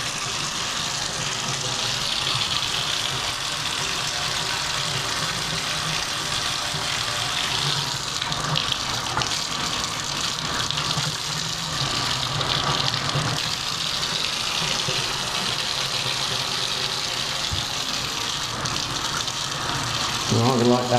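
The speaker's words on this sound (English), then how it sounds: "we'll let that run while we check the water in the master" Water runs steadily from a tap into a sink during a home inspection in a house, a continuous hissing gush that lasts throughout while people talk over it.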